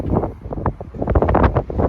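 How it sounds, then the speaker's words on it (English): Gusty wind buffets the microphone with low, rumbling bursts that rise and fall throughout, loud and close with no speech. "It is a very windy day, which I'm sure you'll be able to hear"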